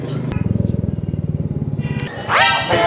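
Royal Enfield motorcycle idling at a group ride-out heading to Gazipur, Bangladesh, a loud close single-cylinder thump pulsing steadily before other sounds take over near the end.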